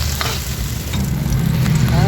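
Sliced eggplant sizzles loudly in a pan of hot oil, a steady close crackle with occasional stirring scrapes, and no talk over it.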